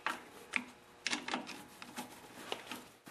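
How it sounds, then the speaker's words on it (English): A T27 torque screwdriver hand-tightening screws on a snowblower starter gear, giving a run of faint, close ratcheting clicks in an irregular rhythm, with no talk. "I'm just going to hand tighten them with a torque screwdriver"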